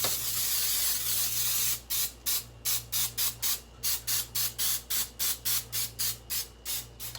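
Pam cooking spray misted onto a muffin tin, one long continuous hiss followed by a rapid series of short, even spray bursts, close and loud with no talking.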